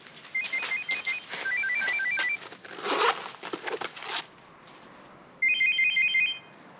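A telephone rings with repeated electronic trilling bursts, first two short rings, then rustling and shuffling, then a louder final ring, nearby and with no voices.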